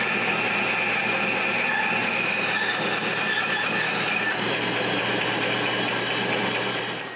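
A band saw cuts the corners of a wooden serving tray, a steady loud rasping whine with a constant motor hum that runs without a break and eases off slightly at the very end.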